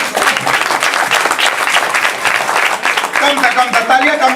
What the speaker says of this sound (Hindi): Clap your hands.